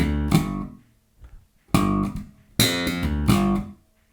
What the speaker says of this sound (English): So altogether that lick sounds like this.